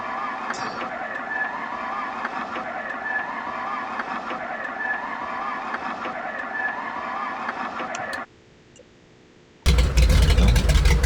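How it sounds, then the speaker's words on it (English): Grumman JRF-6B Goose radial engines in Microsoft Flight Simulator drone steadily with a faint whine, drop almost to silence, then a loud, deep roar bursts in as an engine catches near the end. "And now we're ready to start the engines"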